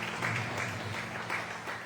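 A church congregation applauds in a steady, dense wash of clapping during worship, the crowd sound continuous and moderately loud with a faint murmur beneath it.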